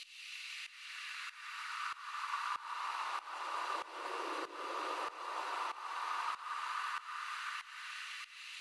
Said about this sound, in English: And this is a sample of the kettle boiling.